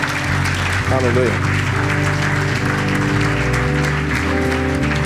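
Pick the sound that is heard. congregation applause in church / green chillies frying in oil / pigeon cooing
congregation applause in church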